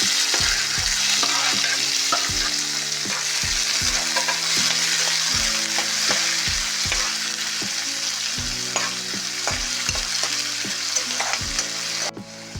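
Chopped onions and green chillies fry in hot oil for chicken liver pepper fry, a loud continuous sizzle under a steady rhythm of sharp metallic spoon scrapes and taps against the pan, close up and without talk.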